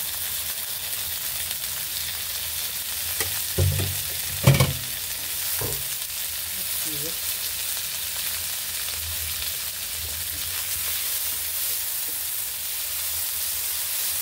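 Onion and tomato sizzle steadily in a pan, with a few louder stirring scrapes and knocks near the start, then a continuous hiss of frying with no talk.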